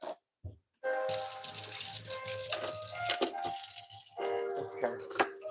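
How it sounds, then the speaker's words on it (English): Tap water runs into a cooking pot in a home kitchen, a bright splashing stream that starts after a few brief knocks, with some clinks and rattles of the pot. "So I do have to put some water in here."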